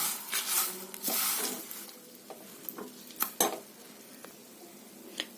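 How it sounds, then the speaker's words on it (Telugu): Curry leaves frying in hot oil until crisp, a steady close sizzle broken by stirring scrapes and clinks of a ladle against the pan, no talking. "కరివేపాకు కరకరలాడేదాకా వేయించుకోవాలి"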